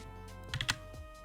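A few quick keystrokes tap on a computer keyboard, close and soft, a short cluster of clicks during Roblox combat-system scripting, with no voice.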